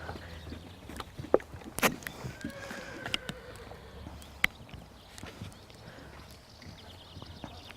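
A horse cantering in an arena during a riding lesson, its hoofbeats soft and irregular at moderate distance, with occasional sharper thuds and creaks over a quiet outdoor background.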